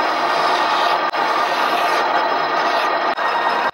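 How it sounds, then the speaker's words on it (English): A hand file rasps continuously and loudly across the corners of titanium Damascus rings, a harsh sustained scraping broken by two brief pauses between strokes. "I'll start with a file to take most of the material off the corners."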